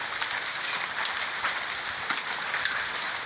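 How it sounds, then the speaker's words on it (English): Hail pelts the ground and surroundings during a storm in Austin, Texas, a dense, steady roar of pattering impacts with scattered louder hits, heard continuously with no talking. "Austin, Texas, hailstorm."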